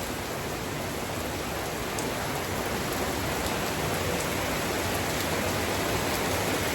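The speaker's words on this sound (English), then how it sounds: "it is raining like crazy" Heavy rain pours outside a guest house in Bali, a dense steady roar of water close by with no pauses.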